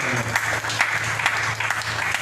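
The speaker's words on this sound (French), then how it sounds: "Applaudissez" A congregation applauds during a French-language church service, a dense, steady wash of clapping that fills the whole stretch, with a sustained low musical tone underneath.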